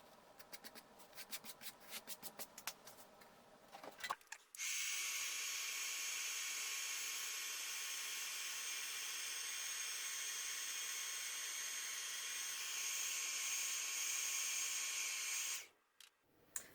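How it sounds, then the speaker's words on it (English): A heat tool melts embossing powder on paper, making a steady, bright blowing hiss that runs for about eleven seconds after some light handling noises, then cuts off abruptly. "And then we're going to emboss with the heat tool."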